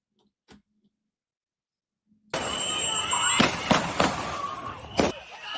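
Gunfire in played-back video footage: sharp loud bangs, about four distinct cracks spread over a few seconds amid a dense noisy background, following near-silence with a faint click.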